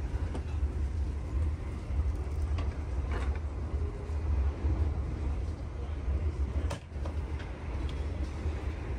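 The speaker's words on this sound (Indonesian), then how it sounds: "Setelah berangkat dari stasiun Tugu ini, kita akan berhenti lagi di stasiun Purwokerto." Argo Lawu Luxury passenger train running steadily after departing the station, with a continuous low rumble of wheels and carriage noise throughout and a brief dip near the end.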